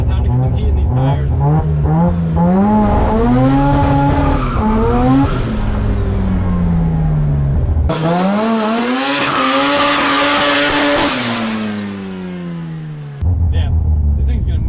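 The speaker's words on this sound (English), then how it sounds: "time to get some heat in these tires" A rotary-engined Datsun race car revs hard while heating its tires at low pressure, the engine note climbing and falling in long sweeps before a loud, sustained tire squeal with screeching overtones, then the engine returns.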